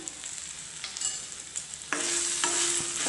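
Chillies stirred with coriander powder and ground mustard seed in a hot frying pan give a steady close sizzle with scraping strokes, growing louder and fuller partway through.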